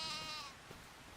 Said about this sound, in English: I guess I just need to get rid of sheep.